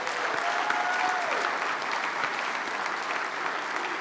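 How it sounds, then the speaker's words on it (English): Steady audience applause fills a recognition ceremony for career education students, a dense wash of many hands clapping at even loudness throughout, with a brief faint vocal tone early on. "Let's give them a round of applause."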